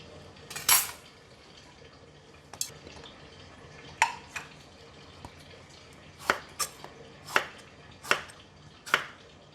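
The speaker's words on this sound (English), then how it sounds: "I'm cutting it into medium-sized pieces." Knife chopping an old cucumber into medium-sized pieces on a board, about ten sharp, separate knocks spaced irregularly, quiet and close against a faint room background.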